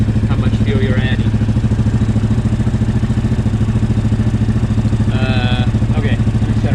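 A Yamaha Grizzly 700 ATV engine fitted with a Power Commander V runs at a steady, loud, close idle with a rapid even thumping pulse, and brief faint voices appear over it.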